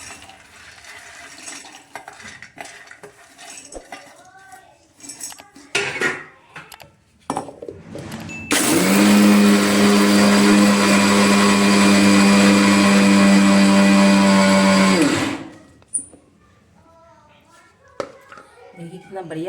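An electric grinder whirs loudly and steadily for about seven seconds, pulverising peeled peanuts into fine powder, bracketed by kitchen clatter and talking before and after.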